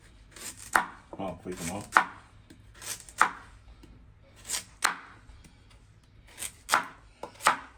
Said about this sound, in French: Et maintenant, ça va coupe carotte.